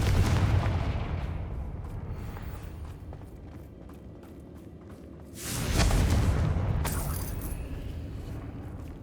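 A Confringo blasting spell explodes in Hogwarts Legacy, a loud rumbling boom that swells midway through and settles into a sustained low roar amid a steady wash of battle noise.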